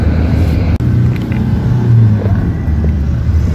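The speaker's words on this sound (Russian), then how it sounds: "вот я села на маршрутку" The cabin of a moving marshrutka minibus on the road toward Petergof fills with a loud, steady low engine and road rumble, with one brief thump early on and no voices.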